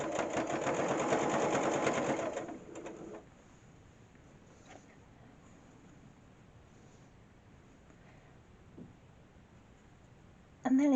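A sewing machine stitches binding down onto a placemat made for VR use: a close, loud mechanical whirring run for about two seconds, then quiet room tone with a few faint clicks and a brief noise at the end.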